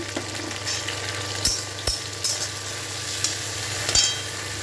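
Onions and tomatoes fry in a pan with a continuous close sizzle, broken by a few sharp clinks and scrapes from a stirring spoon, with no voices.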